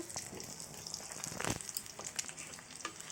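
Fish and vegetables fry in oil with a soft, continuous sizzle and a few light scraping or stirring taps, heard faintly up close without voices.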